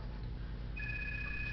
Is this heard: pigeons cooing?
no